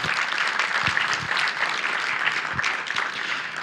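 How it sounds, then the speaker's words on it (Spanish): A church congregation applauds during a sermon, a dense, steady wash of clapping from many hands filling the whole stretch, with a few low thumps. "Denle un fuerte aplauso al Señor"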